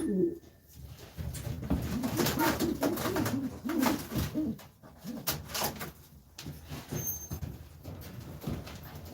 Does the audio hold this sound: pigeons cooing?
yes